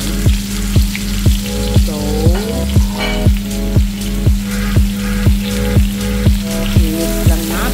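Onions frying in hot oil give a loud, steady sizzle, with a regular scraping stir every second or so and a voice briefly speaking over it.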